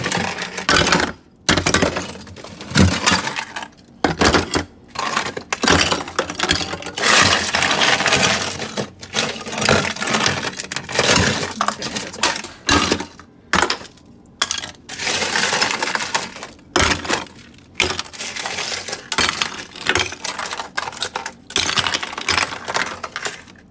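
Thick ice breaking up inside a faulty fridge: dense, continuous cracking, crunching and clattering, loud and close, with brief pauses and no talk.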